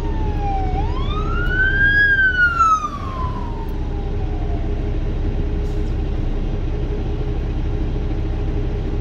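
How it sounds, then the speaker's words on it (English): A fire truck and ambulance siren rises and falls in one long wail, then fades into a low steady rumble of traffic and engine noise for several seconds. "Here come the ambulance. Here come another fire truck."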